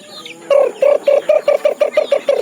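Backyard chickens with a rooster named Bugtong: after a soft opening call, a run of about ten loud, evenly spaced clucks follows in quick rhythm, close by and clear.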